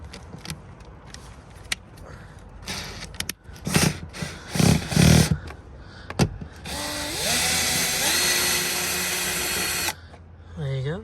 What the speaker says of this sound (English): what we're going to do is take a bolt out from underneath here